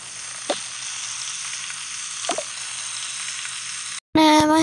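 Burritos sizzle steadily in a pan in the Toca Life video game, a constant hiss with two brief stirring bumps, then a sudden cut to a louder cheerful game jingle at the end.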